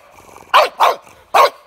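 A dog barks three times in quick succession, loud and close, with short sharp bursts separated by brief pauses and no talking over them.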